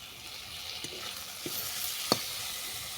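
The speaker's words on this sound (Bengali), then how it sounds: "এরপর সমস্ত উপকরণ আমি ভালো করে কষিয়ে নেব।" Spices and grated boiled potato being sautéed in a pan for a pumpkin flower vegetarian chop, a soft steady sizzle with a few faint spatula scrapes and taps.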